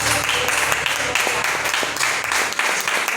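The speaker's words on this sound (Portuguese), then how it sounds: "Aplauda a Jesus" Church congregation applauding during a Sunday communion service, a steady wash of many hands clapping with voices calling out over it throughout.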